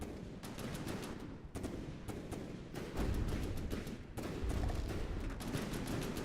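Repeated heavy cannon fire from the ToBA tower in From The Depths, a steady barrage of booming shots with sharp onsets about every half second to second, growing louder and denser midway.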